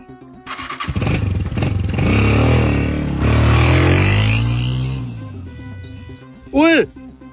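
A motorcycle starts up and revs loudly, its engine roaring up close and then holding steady before fading as it rides off. A brief high vocal squeal pops out near the end.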